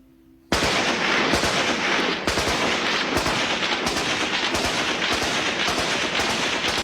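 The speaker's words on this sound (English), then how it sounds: "Here in the Khyber Pass, these days the tribesmen use their firearms the way we use fireworks." Tribesmen in the Khyber Pass fire firearms in a sudden, dense volley that breaks out and continues as overlapping rapid shots and bursts, loud and sustained, with no talking over it.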